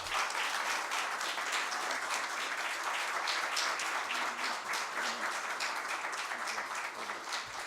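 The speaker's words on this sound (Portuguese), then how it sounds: "pedindo uma última salva de palmas, bastante calorosa" A warm audience applause fills the room for a guest of honour, a steady dense wash of many hands clapping that holds at an even, loud level throughout without any speech.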